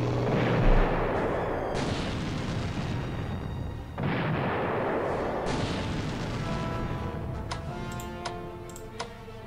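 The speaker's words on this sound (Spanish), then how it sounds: "Vale, bombardeo táctico" Tactical artillery bombardment in the Strategic Command WWII strategy game, with heavy booming blasts and rumbling impacts in a few distinct waves, followed by light ticking interface sounds.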